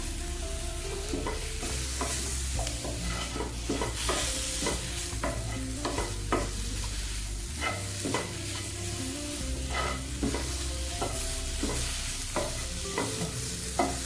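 Masala ingredients sautéing in oil for a brinjal kuzhambu: a constant sizzle with frequent sharp scrapes and taps of the ladle against the pan, over a low steady hum.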